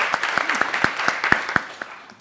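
Applause from a small audience at a business school talk on AI and robotics: sparse, distinct claps at a steady rhythm, fairly close, tapering off toward the end.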